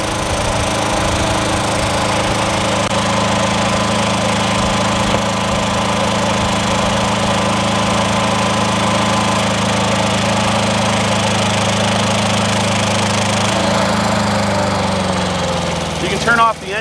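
The engine of a Palazzani TZX 550 compact tracked spider lift runs at a steady, loud drone close by, its hum continuing evenly before dropping in pitch near the end as it winds down, with a person speaking over it.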